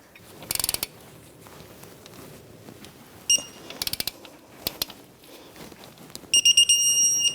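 A torque wrench tightens strut bolts to 156 foot-pounds on a 2013-2018 Toyota RAV4 2.5L L4 front strut assembly, giving scattered bursts of quick ratcheting clicks, then a sharp final click-like burst, with no talk.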